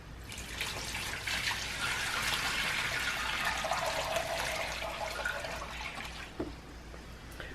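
Water poured from a container onto soda ash powder, a steady broadband rushing pour running nearly the whole stretch, close and fairly loud, with a small knock near the end and no talking.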